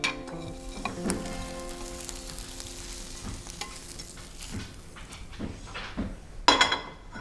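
Egg frying in a pan while being stirred into a scramble, steady close sizzling with scraping strokes and a clatter of cookware near the end.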